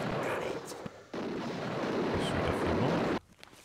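Sustained rumbling gunfire and blasts in the fantasy role-playing game Might & Magic 8, a dense continuous barrage that runs loud for about three seconds, briefly drops, then cuts off sharply into quieter ambience.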